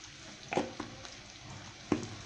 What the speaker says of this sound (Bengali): তিনটা পেঁয়াজ তিনটা রসুন হালকা ভাজবো লাল লাল করে